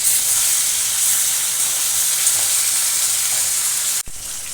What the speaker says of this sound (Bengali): মাছ এক পিঠ ভাজা হয়ে গেছে, উল্টে দেব।